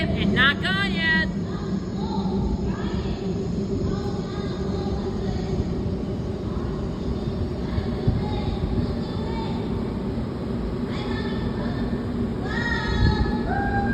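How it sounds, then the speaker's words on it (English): A Washington Metro train rumbles through a tunnel as a steady, loud low roar that holds for the whole stretch, with brief high squeals and tonal whines from the wheels and a voice calling out over it. "Okay, now the train is gone."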